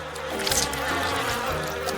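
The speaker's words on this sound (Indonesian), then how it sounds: "Tidak, itu banyak sekali lebah." A swarm of bees buzzing around honey being scooped into a jar with a spatula, a close steady drone with layered buzzing tones that waver and shift over two seconds.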